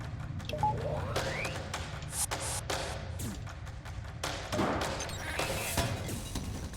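Ship weapons fire at an incoming missile during a battle in FTL amid an asteroid field, a run of sharp thuds and bursts of impacts scattered across the moment, with game sound effects layered over a steady low rumble.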